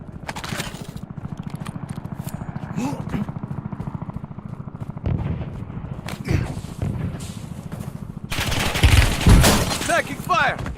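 Bursts of automatic gunfire in Call of Duty: Warzone, repeated shots rattling through the whole stretch and growing louder and denser near the end, with game sounds and a voice mixed in.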